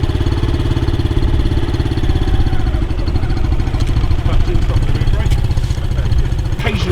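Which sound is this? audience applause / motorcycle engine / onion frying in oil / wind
motorcycle engine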